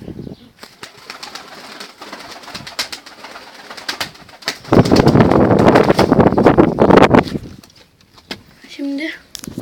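Pigeons in a loft, including a female Arab pigeon, coo and shuffle close by, with a loud burst of wing flapping midway and someone talking over parts of it.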